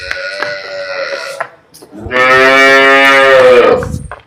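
A fresh cow at a farm with cows for sale, calling out toward her calf: a short moo, a pause, then one long, loud, drawn-out bellow close to the microphone, with no talk over it.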